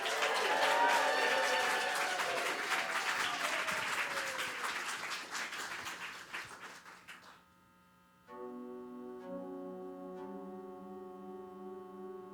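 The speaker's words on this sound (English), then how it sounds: "Now I want you to keep that round of applause going and make some noise" A concert audience applauds in a dense wash of clapping that slowly thins and dies away, followed by quiet sustained tones from the stage.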